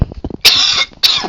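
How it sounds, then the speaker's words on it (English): Two sharp, loud coughs close to the microphone, separated by a brief pause, preceded by a few soft throaty sounds. "I got a cough."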